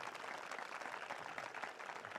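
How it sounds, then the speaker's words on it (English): A quiet, distant wash of clapping from a graduation ceremony crowd, dense and even throughout the short stretch. "I want you to clap for them"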